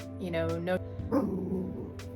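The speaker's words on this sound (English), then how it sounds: "My dog keeps growling throughout this video" A small dog gives whiny, yippy vocal growls and grumbles indoors, close and fairly loud, in a couple of drawn-out bursts with a person talking over them.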